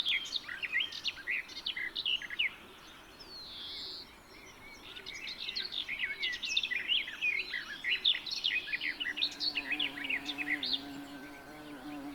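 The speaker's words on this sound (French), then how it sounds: "Ce jeune merle tout juste sorti du nid est encore protégé et nourri par ses parents." A young blackbird calls with repeated high, thin chirps, steady and fairly close, against a faint background hum.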